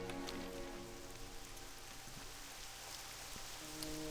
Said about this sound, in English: Starting to rain, lovely.